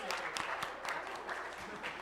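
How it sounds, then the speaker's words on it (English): A crowd claps after a student presidential debate, a steady patter of applause with scattered sharper claps, heard at moderate distance and fairly faint. "could I please get a round of applause to the Independent Collegian"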